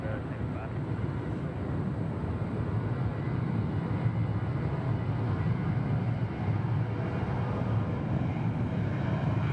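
An American Airlines airliner at Nashville International Airport, its engines a steady, loud broadband roar that holds evenly throughout, with wind buffeting the microphone and a voice talking faintly underneath.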